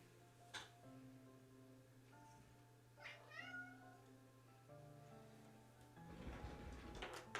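Two house cats in a bedroom let out several short, faint meows spread across the stretch, over a steady low hum and a few small bumps.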